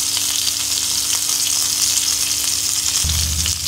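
Chopped garlic sizzling steadily in hot oil in a pan while making pan-fried momos; a loud, even crackling hiss runs throughout with no voices, and a low hum rises near the end.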